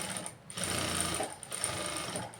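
A sewing machine runs steadily as it stitches fabric for the back-part stitching of a garment, with a continuous close motor whir and brief dips near the start and middle.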